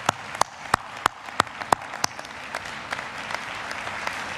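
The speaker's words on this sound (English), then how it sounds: "graduates, please give your family members a big round of applause" Texas A&M graduates at a spring 2013 commencement applaud their families: a few loud, evenly spaced claps ring out at the start over a softer wash of crowd clapping that fades as the claps thin out.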